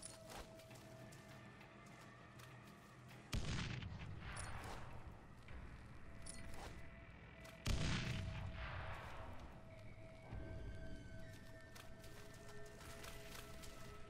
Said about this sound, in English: I tossed two grenades and I only saw one explosion